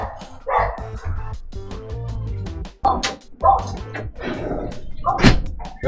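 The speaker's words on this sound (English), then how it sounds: "Sorry about those dogs" Several dogs bark repeatedly nearby in loud, irregular bursts, with some yips mixed in, while a person talks over them.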